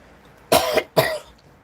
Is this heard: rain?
no